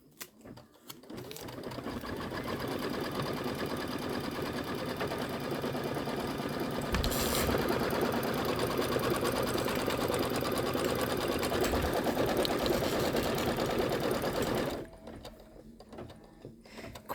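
An embroidery sewing machine stitches a tack-down line on fabric, running as a fast, steady mechanical chatter for about thirteen seconds before stopping, leaving a quiet pause with faint clicks.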